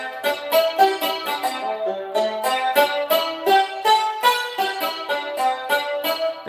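Yangqin preset on a Roland GM-800 synth module, a struck-string dulcimer tone playing a steady run of bright plucked notes with quick attacks and ringing decays, close and alone with no talking.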